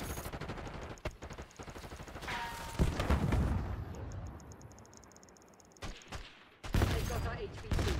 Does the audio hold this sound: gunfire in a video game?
yes